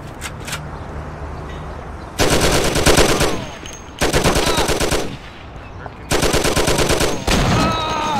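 Gunfire in the video game Mafia: The City of Lost Heaven: three loud, close bursts of rapid automatic fire separated by short pauses, with a few faint shots in between.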